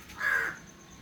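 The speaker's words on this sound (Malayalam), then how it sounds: "വെറുതെ കാക്ക വരുന്നുണ്ട്" A single crow gives one clear caw, fairly close and moderately loud, against a quiet outdoor background.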